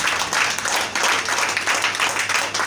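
Congregation at a Sunday church service clapping together to acclaim the Lord, a fairly loud, rhythmic run of claps with a faint hum beneath.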